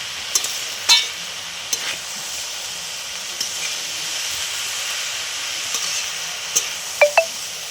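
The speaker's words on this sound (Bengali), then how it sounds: "ভালো করে নাড়িয়ে নিতে হবে।" Ginger, turmeric, red chili, tomato and peas fry with a steady low hiss while being stirred, with occasional soft scrapes and taps of the spoon against the pan.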